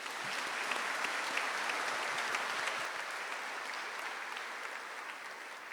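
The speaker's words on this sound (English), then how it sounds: "May we please have a round of applause." At a high school commencement ceremony, an audience in a large hall claps for a scholarship recipient, a broad, even rain of applause that eases slightly partway through.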